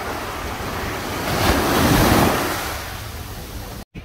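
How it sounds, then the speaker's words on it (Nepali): Waves breaking at La Mer beach in Jumeirah, a continuous roaring wash of surf swelling and easing with heavy wind buffeting the microphone, loud and close, cut briefly at the end. "हामी चाहिँ अहिले बिचमा छौँ"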